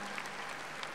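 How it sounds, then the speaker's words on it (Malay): Applause from an audience for the competition winners at the closing ceremony of a women's technical entrepreneurship carnival, a steady wash of clapping filling the moment at a fairly faint level. "Kita berikan tepukan yang paling gemuruh kepada semua pemenang pertandingan"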